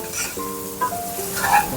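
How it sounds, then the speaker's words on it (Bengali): Potatoes fry in a pan in hot oil, with a soft, steady sizzle and a few light clinks and stirring sounds from a utensil. "এবার আলুটাও ভেজে নেব। এই যে আলুগুলোও ভেজে নেব"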